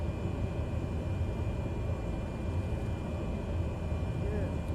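Steady, loud engine drone of a Cessna 208 Caravan in Microsoft Flight Simulator over Hawaii, a constant broadband hum that continues unchanged throughout.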